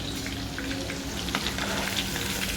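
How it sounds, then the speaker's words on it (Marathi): Chicken fry sizzling in a pan, a soft, steady crackle with scattered small pops throughout, fairly quiet and with no one speaking. "हे बघा मस्त असे खरपूस आपले फ्राय झालेले आहेत हे चिकन फ्राय"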